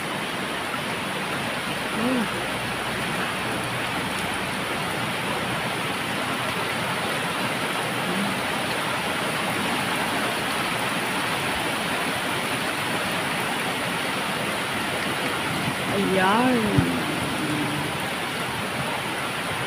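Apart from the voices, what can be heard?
rain falling with wind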